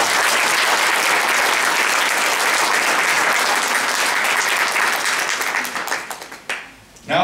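Sustained loud applause from an audience at a congressional art competition, honoring participating students, steady dense clapping that thins and fades near the end before a brief final burst.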